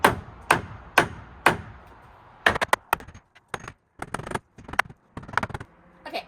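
A hammer strikes wood while a porch railing is rebuilt, sharp percussive blows coming in an even series of four, then quicker irregular clusters of taps, close and distinct.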